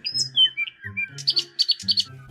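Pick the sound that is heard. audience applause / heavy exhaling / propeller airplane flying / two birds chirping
two birds chirping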